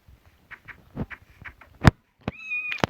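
A small kitten in Minecraft meows in short, high bursts, several times over quiet background, the last cry a longer drawn-out mew, close and fairly clear.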